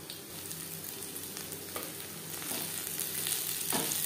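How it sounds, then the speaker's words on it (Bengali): A single green chilli fries in hot oil in a pan, a steady close crackling sizzle that grows slightly louder, broken by a couple of sharp spatula scrapes. "একটা লঙ্কা ভেজে নেব,"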